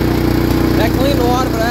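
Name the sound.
Simplicity riding mower engine popping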